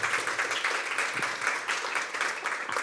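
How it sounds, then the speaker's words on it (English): A crowd applauds a speaker named Sally at a small-business self-promotion talk, a steady dense wash of many hands clapping at moderate distance with no voices over it. "So let's give Sally a round of applause for being here today."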